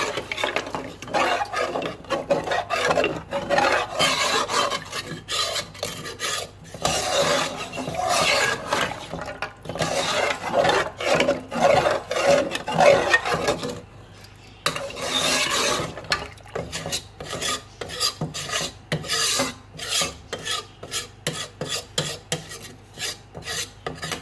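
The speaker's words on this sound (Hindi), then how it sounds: "अब हम इसको हिलाएंगे थोड़ा सा।" Mutton paya salan stirred in a pot on the stove, a spoon scraping and rubbing steadily against the metal in repeated rasping strokes, close and fairly loud, with a brief pause midway and no talking.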